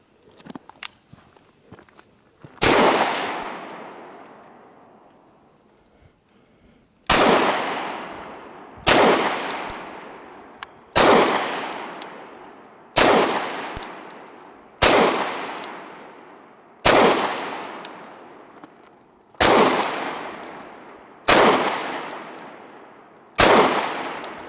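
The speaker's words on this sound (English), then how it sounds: "Alright, let's shoot this Canik." A Canik TP9 pistol fires about ten sharp shots downrange at a steady pace, each loud crack trailing off in an outdoor echo before the next.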